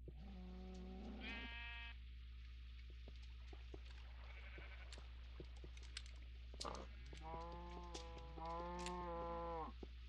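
Sheep and cows bleat and moo in a farming video game, their calls loud and repeated over a steady low background hum, with no talking.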